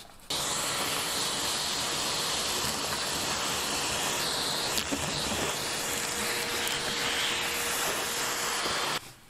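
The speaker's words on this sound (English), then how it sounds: "I think we should vacuum up the rest" A vacuum cleaner runs with a steady, faint hissing roar from start to finish, switching on and off abruptly, with no talking.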